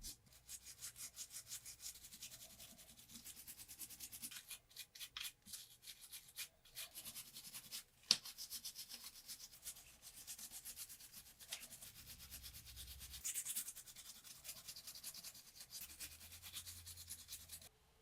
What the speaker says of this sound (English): So little IPA, my toothbrush, we're going to clean this off first.